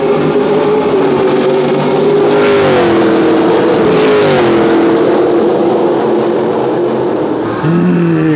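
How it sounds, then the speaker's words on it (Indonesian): GT Asia race cars, including Porsche and Mustang entries, sweep past at a circuit with a loud, continuous engine roar whose pitch rises and falls through the pass, close and dominant throughout. "terus nih mobilnya lewat nih sambil kita lihat ya."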